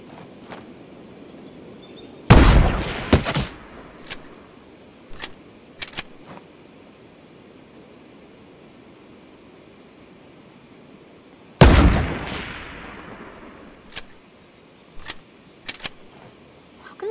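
Gunfire in the game Fortnite, two loud sharp shots with decaying tails separated by about nine seconds, plus scattered fainter clicks and pops in between.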